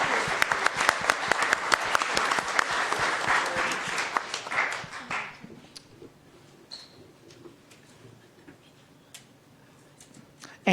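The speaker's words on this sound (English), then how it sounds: "Let's give her a round of applause." Applause from the audience at a Tucson Unified School District governing board meeting, dense clapping for about five seconds that then thins to scattered claps and quiet room noise.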